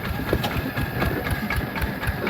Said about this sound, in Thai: ที่รถไถมา เพราะว่าอันนี้รถไถน้ำเบาเขาได้